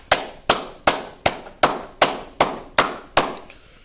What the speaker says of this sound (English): hey, clap it up, man